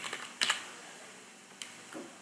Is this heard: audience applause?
no